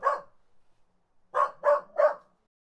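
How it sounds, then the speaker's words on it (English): A dog barks four times: a single bark, a pause, then three quick barks in a row, loud and close with no other sounds. "This is what a dog sounds like."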